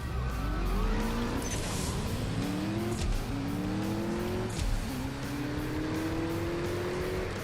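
Race cars, a Lexus among them, accelerate hard through a CSR2 Live Racing drag race, engines climbing in pitch with repeated upshifts, tires squealing at the launch, loud and continuous without any talk.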